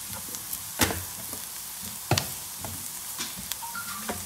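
Onions sautéing in a pan with chili powder, a soft steady sizzle with a few sharp clinks of stirring, faint and close, no voices.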